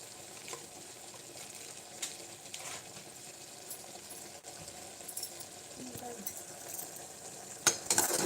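Lotus stem fries with sabzi masala in a pan, a soft sizzle under scattered scrapes and clinks of a spoon stirring, quiet and close, with a little utensil clatter near the end.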